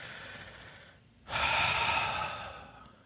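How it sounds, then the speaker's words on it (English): A deep breath, a long airy inhale followed after a short pause by a fuller, louder exhale that slowly fades, close and alone. "Nice big deep breath."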